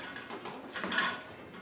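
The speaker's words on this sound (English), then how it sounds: "So this is a shoulder pulley" A door-mounted shoulder pulley being set up, soft mechanical rattles and clicks of the strap and pulley hardware, faint and close, with no speech.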